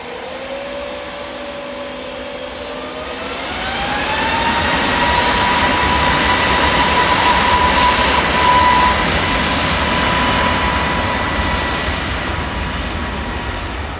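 A Ryanair jet arriving from Belfast approaches Manchester Airport, its engine whine climbing in pitch and swelling to a loud sustained roar as it passes overhead, then slowly fading, with no talking.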